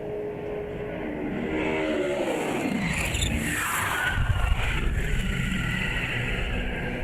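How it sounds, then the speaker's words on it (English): A NASCAR stock car slams into the wall at very high speed during qualifying, engine pitch sweeping down before a rough scraping, crunching burst near the middle, followed by continued roaring noise. "he hits that wall hard at a very, very high rate of speed"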